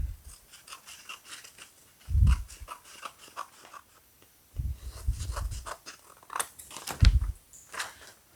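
Scissors trimming a folded paper template in a metal shop: short crisp snips and crunching cuts in irregular bursts, close and fairly quiet, with no talking.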